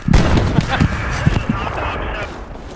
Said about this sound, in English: Oh, it's a grenade!